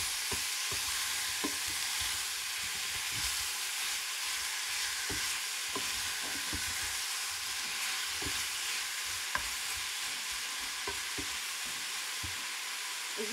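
Six mushrooms and bacon lardons fry over medium heat in a pan with a dense, continuous sizzling hiss. Faint stirring clicks and pops are scattered through it, and no voice is heard.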